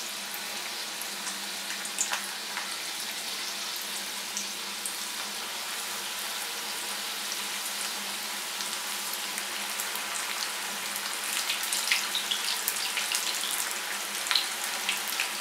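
Onion pakoras frying in hot oil give a steady, busy sizzle with fine crackling pops throughout, close and fairly quiet, with no talk.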